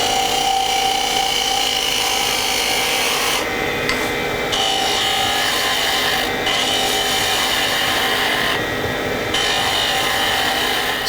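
A woodturning tool scrapes and narrows the wooden tip of a pen on the lathe, a steady close-up rasping hiss broken by a few short pauses as the tool lifts away.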